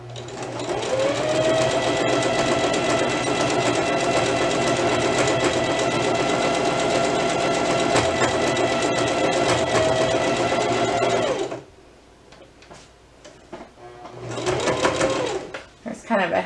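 A sewing machine stitches a heavier seam in one long, loud, steady run, stops abruptly, then starts again briefly; a voice talks alongside it.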